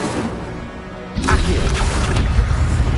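An Incendio fire spell cast in the video game Hogwarts Legacy, a sudden deep whooshing burst about a second in, followed by a loud rumbling roar with crackling that carries to the end.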